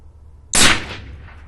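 A single sharp rifle shot cracks loudly and close, then decays into a short rolling echo over quiet outdoor background.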